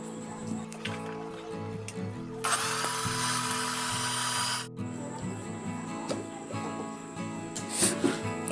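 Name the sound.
mixer grinder grinding fried spices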